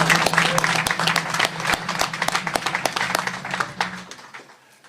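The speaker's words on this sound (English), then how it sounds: "I think that deserves a round of applause" Applause from a crowd at a ceremonial state budget bill signing celebrating higher-education investment, with individual claps standing out close by; it swells, then thins into scattered separate claps before stopping.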